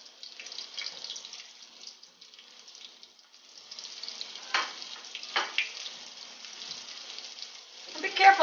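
Calamari fry in very hot canola oil with a steady, fairly faint hiss and crackle, broken by a few louder spits and splatters close by.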